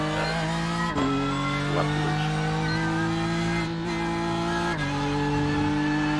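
A fast NASCAR race car at Talladega in a video game holds a loud, sustained engine whine with clear tonal harmonics. The pitch shifts abruptly at a few gear changes and otherwise stays steady, with no voices.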